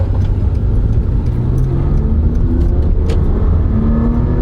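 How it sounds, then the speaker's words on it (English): A Toyota V6 car engine with 141,000 miles hums steadily as the vehicle accelerates, its pitch rising in smooth steps as the automatic transmission shifts, loud and close. "they're extremely smooth V6 engines with plenty enough power"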